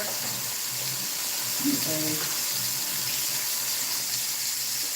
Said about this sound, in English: So I'm gonna put the shrimp in the strainer. Go ahead and rinse the shrimp off.